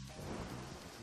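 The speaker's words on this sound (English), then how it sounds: "It's raining." Steady rain in the video game Deadly Premonition, a dense even wash of falling water with a faint low rumble underneath, heard alone without talk.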